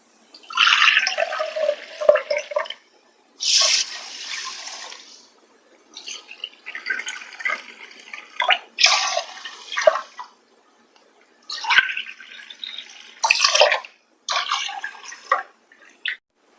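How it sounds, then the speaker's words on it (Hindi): Water is poured from a bowl into a pan in several separate splashing bursts with quiet gaps between, close and clear, no talking. "उसी कटोरी से 3 कटोरी पानी ऐड करते हैं"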